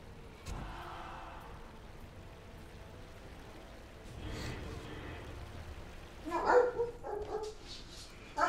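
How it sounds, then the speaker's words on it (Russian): A pet dog barks at home in a few sharp bursts near the end, close and fairly loud over a soft steady background, with quiet indoor noise before. "Так, тут у меня собака всполошилась."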